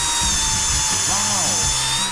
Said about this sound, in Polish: I ostre wiertło do drewna, które aż wciąga, że chce wiercić.